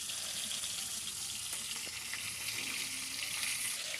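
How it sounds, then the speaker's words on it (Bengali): Fish frying in a pan gives a continuous, close, bright sizzle with small crackles, holding steady with no talk. "আর অন্যদিকে আমার মাছ কিন্তু ভাজা কমপ্লিট"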